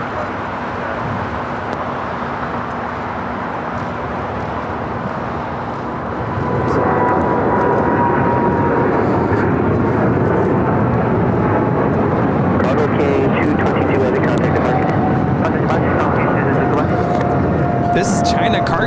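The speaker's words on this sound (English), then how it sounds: "This is China Cargo Airlines, the Cargo King 222, taking off to Shanghai on the 777 freighter." A China Cargo Airlines Boeing 777 freighter takes off at LAX, its engine roar rising sharply to a heavy, sustained thunder and then staying loud throughout, heard from a moderate distance with faint crackle.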